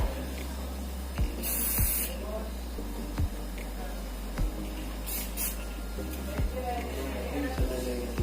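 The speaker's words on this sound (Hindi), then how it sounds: "अभी फिलहाल बेरिना गोल्ड का होल स्प्रे यूज करोगे" Berina Gold hair spray hissing from an aerosol can in short bursts, several quick sprays spaced over a few seconds, close up over a steady low hum.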